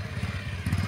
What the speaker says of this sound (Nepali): उहाँले एकदमै कन्ट्रोल गरेर बाइक स्लोमा चलाइराख्नु भएको छ।